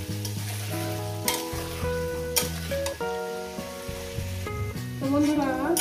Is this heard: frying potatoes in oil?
yes